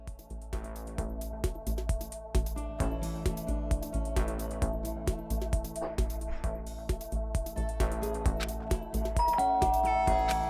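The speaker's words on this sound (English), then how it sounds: "Ding dong! Someone's here!" A doorbell rings in the video game Danganronpa, a repeated chime pulsing over steady background music for several seconds with no talk.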